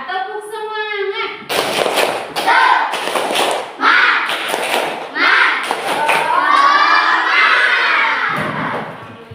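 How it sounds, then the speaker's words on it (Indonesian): Schoolchildren in an Indonesian classroom do a rhythmic spirit clap chant, a class of young voices shouting in unison with sharp clap-like thumps in a patterned beat, loud and close, preceded by a brief sung or called cue. "Nah, tepuk semangat."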